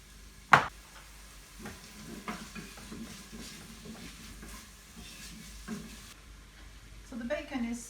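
Bacon fries in a pan with a soft, steady sizzle, punctuated by a sharp clatter near the start and occasional stirring scrapes, while a voice talks briefly toward the end.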